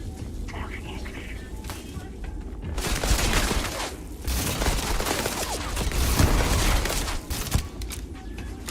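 Gunfire from a weapon in the Starfield video game, a dense rapid burst of shots rattling for several seconds amid combat noise, with a faint voice underneath.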